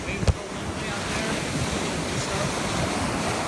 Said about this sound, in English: You guys can see the waves rolling way out there.